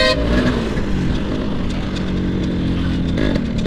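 A Yamaha RX motorcycle engine runs loud and close, holding a steady, raspy throb with small throttle swells throughout.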